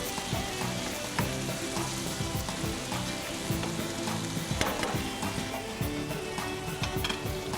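Shish tawook chicken and vegetables fry in a pan with a steady, close sizzle and crackle, with occasional pops and stirring clatter throughout.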